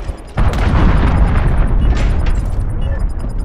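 Cruise missile strike in Call of Duty Modern Warfare (2019), a loud explosion that bursts in suddenly, then a long rumbling roar with crackling debris that slowly fades.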